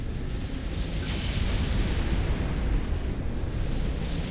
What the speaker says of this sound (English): So this is Mac cannon. Magnetically accelerated cannon.